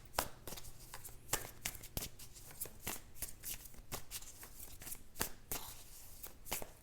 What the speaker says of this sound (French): Je tirerai une dernière carte sur cette section.